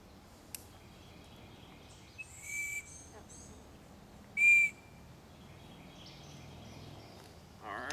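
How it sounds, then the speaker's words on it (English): Short, shrill blasts from a survival whistle on a Fiber Light FS fire rod, a brief one followed by a louder, longer toot, over a low steady background hiss. "And it is a whistle."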